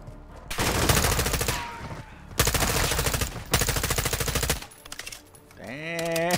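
P90 submachine gun firing in the Call of Duty MWII campaign, three loud, close bursts of rapid automatic fire separated by short pauses, followed by a brief shout.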